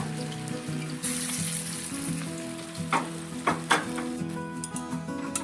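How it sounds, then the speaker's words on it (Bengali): Raw mango pakoras crackle and sizzle in hot oil on their second frying, a steady frying hiss with occasional sharper pops and spatters, heard up close. "দ্বিতীয় পর্যায়ে চলছে ভাজা।"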